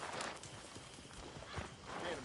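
Horse hooves clip-clop softly and steadily in a PS4 video game, faint and continuous beneath voices talking.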